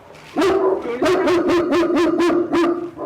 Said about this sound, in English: He's barking at the truck rolling in right now.